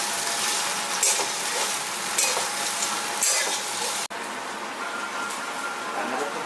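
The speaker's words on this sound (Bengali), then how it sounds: "এবার কিন্তু সবিনটা ভাজবো" Food frying in a pan, vegetarian home cooking, gives a steady broadband sizzle throughout, with a few utensil scrapes and a brief dip in level partway through, and no speech.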